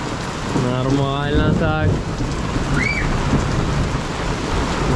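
Heavy rain pours steadily with a low rolling rumble of thunder during a summer storm, while a voice speaks briefly over the downpour.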